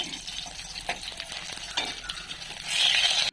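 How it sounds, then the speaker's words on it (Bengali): Pabda fish sizzles in hot mustard oil close up, with a utensil scraping and stirring in the pan and the frying growing louder at the end. "এখন মাছগুলোকে উল্টে পাল্টে খুব ভালোভাবে লাল লাল করে ভেজে নিতে হবে।"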